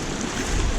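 Fast-moving, deep river water rushing past: a brief, loud, continuous broadband roar with no voices.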